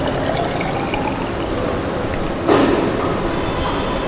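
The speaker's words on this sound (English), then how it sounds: "I completely remove this water." Water is poured out of a container during a cement specific gravity test, a brief wet splash near the middle over a steady background hum.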